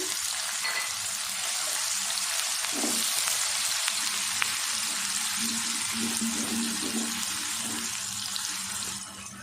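Steady hissing sizzle of onions frying in hot ghee, with occasional stirring clinks, continuous and close throughout.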